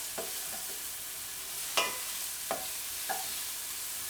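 Onions with a bay leaf and salt frying in a heavy pan, a soft steady sizzle broken by a few sharp stirring scrapes, close up and alone.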